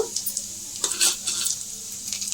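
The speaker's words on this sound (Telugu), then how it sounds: "1 స్పూన్ శనగపప్పు కొంచెం వేయించుకోవాలి." Mustard seeds, cumin, urad dal and chana dal roast in a hot pan, making a crackling sizzle with quick scraping strokes and light clinks of a spoon, close and fairly loud.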